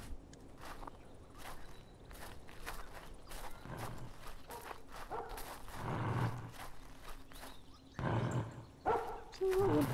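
A small dog trapped behind a locked door barks faintly in the video game After You, a few muffled yaps rising from soft background shuffling and footsteps.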